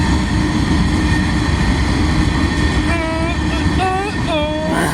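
A freight train of small tank cars passes close by, picking up speed, with a loud continuous rumbling hum and rolling noise, plus squealing tonal whines late in the pass; a person's voice comes through faintly beneath it.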